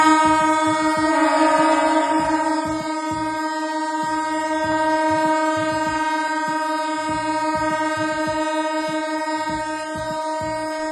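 Trains at a railway station at New Year's midnight, with several train horns blaring in a long sustained chorus over rhythmic clickety-clack of rolling wagons, loud and continuous with no talking.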